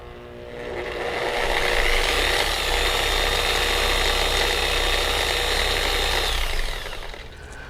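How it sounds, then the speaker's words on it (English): A dual action car polisher switches on and runs with a loud, steady whirring hum for about five seconds, then winds down and stops. "excuse me while I plug in this polisher. Let's turn it on."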